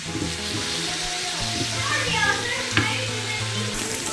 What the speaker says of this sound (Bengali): তো হাই হিটে মাংসগুলো ভেজে নিতে হবে।